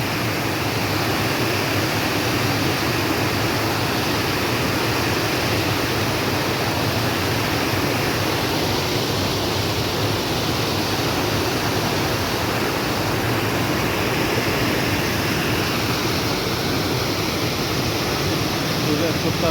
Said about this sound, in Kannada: ನೀರು ಜೋರಾಗಿ ಬಿಟ್ಟಿದ್ದಾರೆ ಅಂತ.